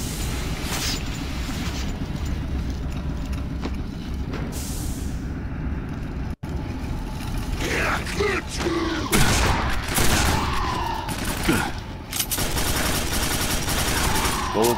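Gunfire in the Quake 4 video game, dense bursts of shots and mechanical blasts among machinery noise, loud and close, with a few rising whooshes late in the sequence.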